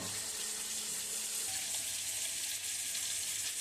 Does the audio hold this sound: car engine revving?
no